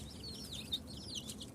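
Farm chickens, about 20 to 25 days old and kept in a netted enclosure, make faint, busy chirps and soft clucks that overlap continuously against quiet background noise.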